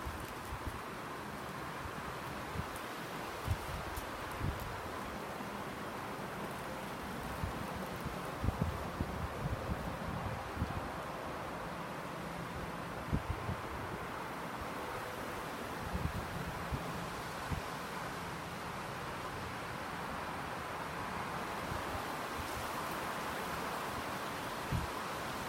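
High winds roar and buffet across an outdoor parking area in a steady, rushing wash, with occasional gusty thumps of wind hitting the microphone.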